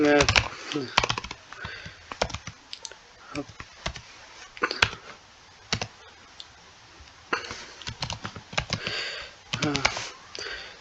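Close, crisp keystrokes on a computer keyboard come in uneven bursts and pauses while an online application form is filled in, with someone speaking in between.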